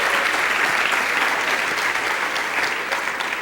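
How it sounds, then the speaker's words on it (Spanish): A church congregation bursts into sustained, even applause during a sermon, a continuous loud clatter of many hands with no pauses. "Denle un aplauso al Señor"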